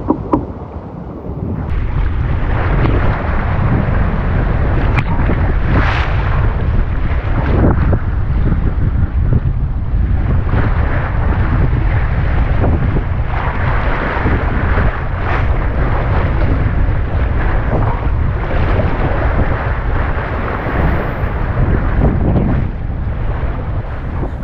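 Strong wind roars steadily across a boat out at sea, a loud, dense rush with gusty swells and constant microphone buffeting throughout, no voices.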